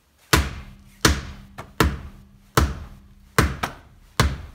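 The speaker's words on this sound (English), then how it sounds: "So if we pound this wheel," Repeated heavy thumps of a hand pounding a jacked-up car wheel to find rattles, about seven sharp, close knocks at an irregular beat, each with a short dull decay, no talking.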